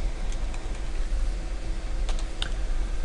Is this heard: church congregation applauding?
no